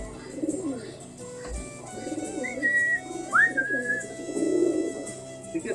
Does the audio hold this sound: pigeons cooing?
yes